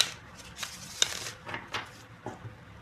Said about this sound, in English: One last shuffle for the sign of Virgos